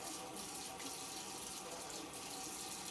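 Tap water runs steadily into a sink while an AeroGarden part is rinsed under it, a constant close hiss and splash lasting a few seconds with no talking.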